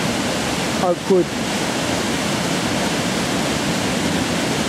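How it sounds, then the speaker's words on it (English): A fast-flowing river channeled into an eddy that feeds a pond beside Mill Farm, on a countryside walk between Ockley and Warnham, gives a steady, close rushing wash of water throughout, with a brief spoken word near the start. "the river has been channeled into a fast moving, fast flowing eddy here, creating this pond"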